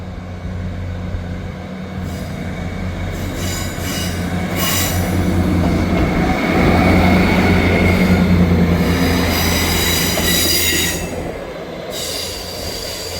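ScotRail diesel unit 158713 pulls out of Dundee station empty, its engine rumbling steadily while wheels squeal and rail noise swells to a peak midway before easing, with no voices over it.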